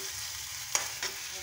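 Ginger and garlic fry in a pan with a soft, steady sizzle, broken by a couple of brief stirring scrapes.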